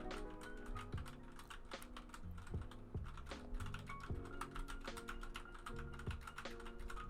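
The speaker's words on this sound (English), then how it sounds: "I am currently typing on my keyboard." Continuous typing on a mechanical keyboard with red Cherry switches, a dense, even stream of soft key clacks with no voices, heard close and faint.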